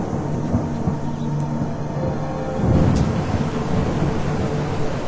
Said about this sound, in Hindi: बाहर अभी भी तूफान चल रहा है और बिजली कड़क रही है।